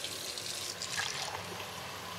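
Water poured from a large glass into a pot of thick broth, a steady close splashing pour with no talk over it.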